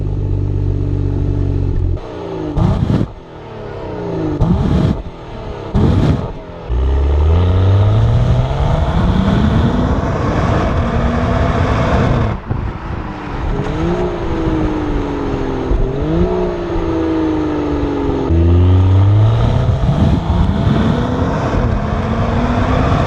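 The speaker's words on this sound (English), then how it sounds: "This one has a turbo, so the sound is kind of silenced a little bit, but at the same time you get those turbo swooshes." Turbocharged engine of a 2018 BMW X6 35i growling under repeated acceleration, loud and close, rising and falling through gear changes with brief throttle lifts and turbo whooshes, no talking.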